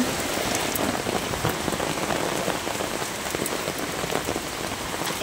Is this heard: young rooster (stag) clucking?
no